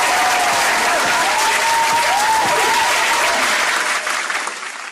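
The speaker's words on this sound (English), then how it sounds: "Round of applause for everyone involved" An audience applauds loudly and steadily for everyone involved, with dense clapping that holds for several seconds and then begins to fade at the end.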